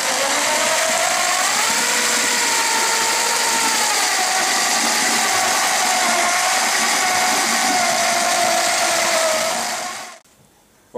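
A power mixer spins plaster in a bucket with a loud, steady whirring drone that holds for about ten seconds before cutting off abruptly.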